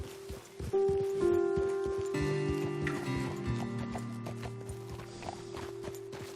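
Horses' hooves clip-clopping in Red Dead Redemption 2, a quick irregular patter of hoof hits under steady tonal game music, moderately loud at first and thinning out toward the end.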